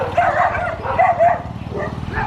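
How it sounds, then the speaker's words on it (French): Several dogs bark and yip in a Colombian street, the loud, irregular calls coming in bursts over steady background noise, with a faint voice beneath. "comme vous le voyez, il y a plein de chiens ici"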